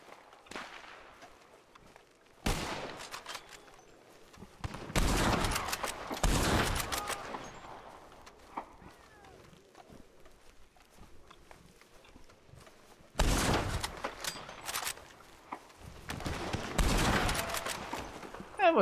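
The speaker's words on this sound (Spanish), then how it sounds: "Escucho los tiros, pero no veo a nadie." Bursts of rapid gunfire in the video game RedM come in several clusters separated by quieter gaps, sharp and fairly close, with no talking.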